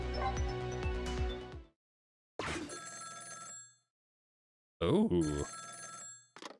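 A telephone rings in the game Ghost Trick: Phantom Detective, with loud repeated electronic ring bursts separated by gaps, and a brief exclaimed voice near the start.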